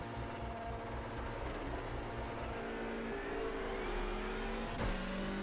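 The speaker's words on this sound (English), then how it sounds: "clutch down until we find the bottom of where the engine can go before bogging, and we're going to pull up to where it red lines" TCR touring race car engine in the iRacing sim held at high revs near redline for a standing start, a steady loud buzzing drone with slight rises and dips throughout, no talk.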